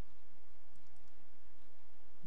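Quiet computer mouse clicks while programming with an AVR USB programmer, a few soft, close, brief clicks over faint background hiss, with no talk.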